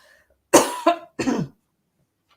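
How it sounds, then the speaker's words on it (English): Two close, harsh coughs in quick succession, the first a double hack, then silence. "She's making me cough, love."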